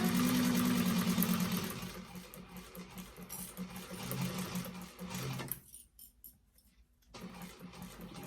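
A sewing machine back stitches along the flap of a vintage expandable tote bag, running in loud rapid bursts, then slowing and pausing briefly before starting up again at lower volume.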